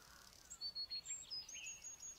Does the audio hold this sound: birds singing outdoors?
yes